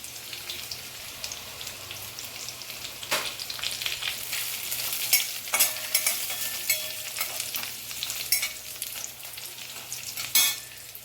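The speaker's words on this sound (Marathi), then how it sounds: "आता ही जिरं टाकून घ्यायचं फोडणीला." Cumin seeds crackle and sizzle in hot oil for a capsicum dry vegetable tempering, a dense continuous spatter with scattered sharper pops and occasional spoon scrapes, close and steady throughout.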